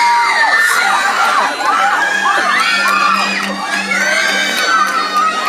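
Bieber fans in a theater scream and shriek together, a loud, sustained wall of high-pitched young voices with rising whoops and cheers overlapping throughout.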